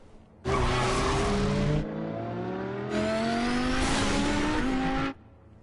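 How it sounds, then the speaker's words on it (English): The Batmobile races in the Telltale Batman video game, with two loud bursts of engine roar and rising, squealing tires, separated by a quieter stretch of steady engine hum. "Got that Batmobile Ferrari. Skirt, skirt."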